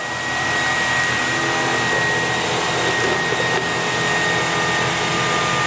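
A Kaivac no-touch cleaning system runs its pump and vacuum together, giving a loud, steady, unbroken motor whine and rushing airflow that holds constant throughout.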